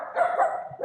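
Dogs bark indoors in a muffled, moderately faint way, with a short continuous run of barking and yips heard through a room.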